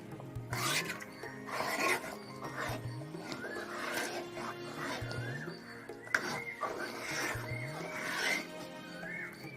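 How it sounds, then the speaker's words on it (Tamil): A spoon stirs and scrapes thick wheat halwa with ghee in a pan, making repeated rasping strokes at a steady rhythm close by, with a faint tonal hum in the background. "நல்லா சுண்டி வர அளவுக்கு நல்லா கிண்டி விடணும்."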